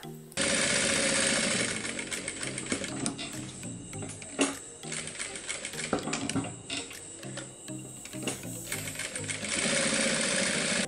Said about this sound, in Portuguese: a gente vai costurar esse retângulo que a gente fez com a caneta